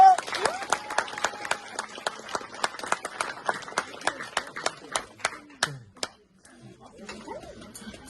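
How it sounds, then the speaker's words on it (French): Sparse, distinct hand claps from a small audience at a speaking contest, fairly close and irregular, with voices and some bright tones under them, thinning out and stopping after about six seconds. "On peut l'applaudir s'il vous plaît."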